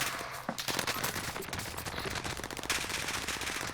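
Rapid automatic gunfire from the video game Warzone rattles in dense, continuous bursts for several seconds, loud and close, with no pauses between shots.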